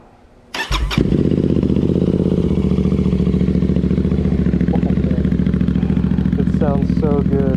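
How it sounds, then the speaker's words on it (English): A Royal Enfield GT650 motorcycle fitted with new Nuke Little Boy slip-on mufflers fires up from cold with a sharp burst, then settles into a loud, even, throbbing idle close by. "first cold start with the new mufflers"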